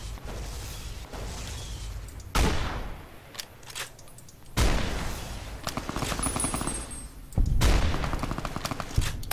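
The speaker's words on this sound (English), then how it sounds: "How on earth are they surviving so many damn shots from an anti-material rifle?" Anti-material rifle fire in the video game Fallout: New Vegas comes as several heavy, booming shots spaced a few seconds apart, each followed by a rumbling tail and scattered smaller impacts.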